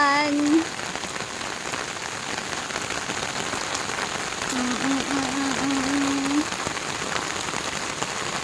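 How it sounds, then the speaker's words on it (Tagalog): Heavy rain pours steadily on the shore of Neihu Lake, a dense, even hiss of drops on surfaces throughout, with brief faint voices rising over the downpour. "Ayan, ang lakas ng ulan."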